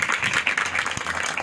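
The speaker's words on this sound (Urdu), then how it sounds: "بہت کم تالیاں، بہت کم تالیاں" A church congregation claps together in a brief, thin round of applause, steady scattered hand claps with no voices over them.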